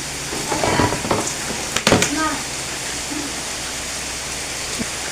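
Steady broadband hiss of heavy rain pouring throughout, with brief muffled voices and a few knocks in the first seconds.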